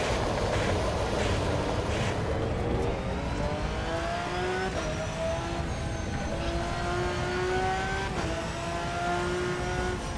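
Race car engine in the Assetto Corsa EVO racing game, droning steadily throughout with rising and falling pitch sweeps as it accelerates and shifts, loud and continuous with no talk.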